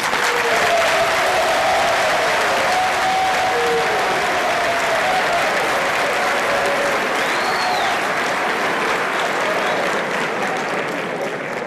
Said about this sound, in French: Je vous prie d'applaudir encore une fois